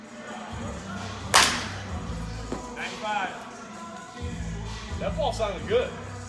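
A 26 oz ASA Worth Krecher softball bat strikes a ball with one sharp, loud crack near the start, followed by people talking.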